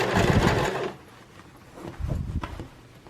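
A sewing machine stitches a zipper pillow cover in two loud, rapid whirring runs, the first nearly a second long and the second shorter after a quiet pause.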